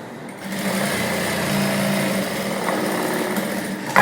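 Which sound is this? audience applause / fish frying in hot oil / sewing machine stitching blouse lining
sewing machine stitching blouse lining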